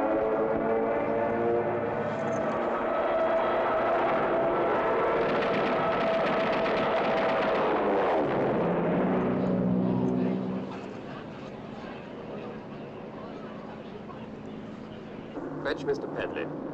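An aircraft engine drones steadily as the plane descends to land, the tone dropping and thinning partway through, with voices talking over it.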